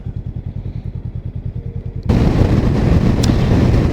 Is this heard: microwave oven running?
no